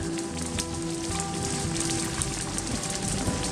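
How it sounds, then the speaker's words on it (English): Hail and rain pelt down steadily during a hike on stormy mountain peaks, a dense, continuous close patter of drops striking surfaces with scattered sharper ticks throughout. "we're getting nailed with the hail now"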